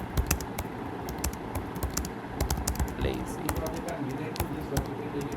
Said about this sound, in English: You just type a quick, and you don't have to even look.